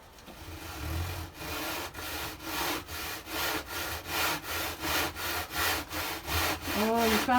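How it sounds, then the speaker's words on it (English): A handsaw cuts through brittle fireboard for a narrowboat hearth in about a dozen even back-and-forth rasping strokes, close and steadily paced, with a short voice at the end. "We need to cut the fireboard, and I'm informed that you can do it using a handsaw."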